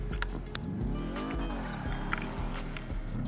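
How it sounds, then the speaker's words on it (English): Engine of a Subaru all-wheel-drive car in GTA 5 Online, a steady droning rev with rising and falling pitch sweeps, close and loud, with faint clicks and tire noise over it. "Subaru. Let's take the Subaru for a spin. By the way, listen to the sound,"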